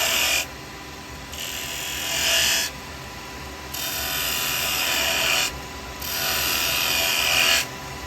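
A carbide chisel from a standard Type 3 set cuts wood spinning on a lathe, giving a steady rasping, hissing scrape in several long passes with short pauses between them, close and fairly loud.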